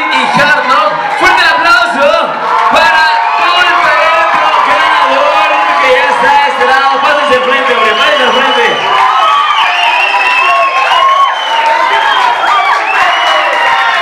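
A large crowd at a 2016 Hardknocks HK live show applauds and cheers nonstop, with dense clapping, whoops and shouts that stay loud and close the whole time.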